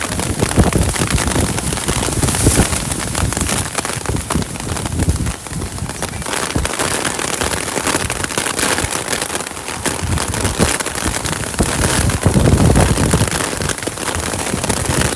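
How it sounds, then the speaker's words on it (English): Heavy rainstorm pelting an outdoor football game between the Sudbury Spartans and Tri-City Outlaws, a loud, dense, continuous roar of rain with crackling impacts and gusts throughout, no speech. "We are getting pelted by rain."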